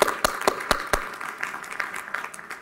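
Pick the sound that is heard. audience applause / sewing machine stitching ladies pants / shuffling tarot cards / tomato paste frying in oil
audience applause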